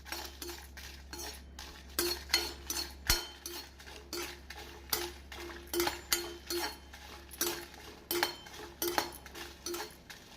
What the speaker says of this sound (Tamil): இப்பொழுது காய்ந்த மிளகாயை நாம் வறுத்து கொள்ளலாம்.